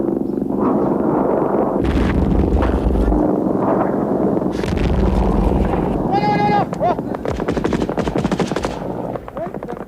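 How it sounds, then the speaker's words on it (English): Soviet troops dug in at a village edge in the Soviet-Afghan war lay down covering fire, with heavy machine-gun bursts and booming blasts close by, a narrator talking over them and animal bleats briefly mixed in. "Soviets dug in at the edge of the village, lay down covering fire"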